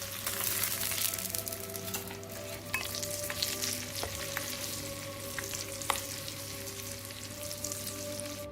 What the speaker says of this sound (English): Pour in a cup of boiling oil with caution, as it exudes a delightful burst of heat.